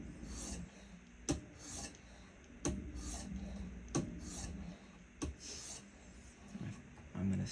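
Heel-to-tip sharpening strokes of a Vanadis 8 steel knife on a stone with light pressure, evenly spaced rasping passes with sharp clicks at each stroke's start, close and fairly quiet.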